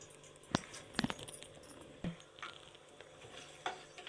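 Whole spices such as cloves, peppercorns, bay leaf, star anise and mace are stirred in a pan for chicken masala, producing soft scattered clinks and scrapes over a faint, quiet sizzle with no talking.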